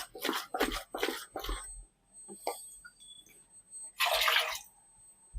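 Water added to a pan of chicken curry in short splashy bursts, four quick gushes in a row followed after a pause by one longer pour, close and clear with no talking.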